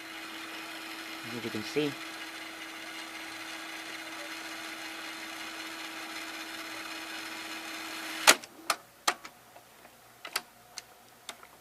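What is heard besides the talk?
Panasonic NV-L21 VCR rewinding a tape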